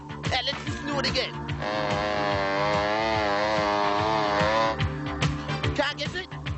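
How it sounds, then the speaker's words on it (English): Chainsaw engine running steadily as a mystery sound played on a radio station, a loud sustained buzzing drone with a revving rise and fall, with mixed talk and music around it at the start and end. "it was a chainsaw"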